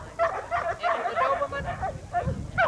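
Dogs at Dobermann and Rottweiler bite training give short, repeated yelping barks and whines close by, in quick bursts through the whole moment.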